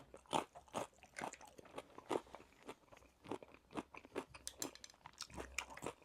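Crisp rose-shaped snack crunched between the teeth, a run of sharp, close bites and chews repeating every half second or so with no talking.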